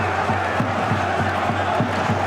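A football crowd at Derby County during a Championship play-off match roars in a dense, steady wall of cheering and chanting, loud and sustained throughout.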